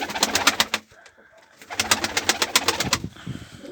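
Pure Mardin pigeons coo in short repeated bursts close by, with a brief lull in the middle before the cooing picks up again and runs to the end.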